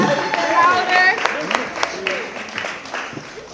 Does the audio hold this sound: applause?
yes